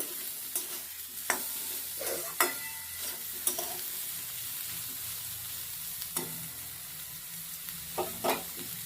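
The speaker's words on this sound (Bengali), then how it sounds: "দেখো কি সুন্দর পেঁয়াজ, কাঁচা লঙ্কা, আলু, বেগুন সব কিছুই ভাজা ভাজা হয়ে গেছে" Green chilli, onion, potato and brinjal fry quietly in a pan, a soft steady sizzle punctuated by several sharp scrapes and knocks of a stirring spoon.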